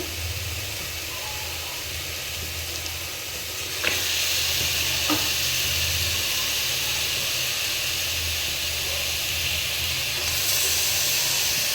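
One kilogram of washed mutton drops into a hot pot of oil for village-style mutton saaru, and the steady sizzle turns sharper and louder when the meat goes in, with a couple of clinks from a utensil. The hiss stays loud and close throughout.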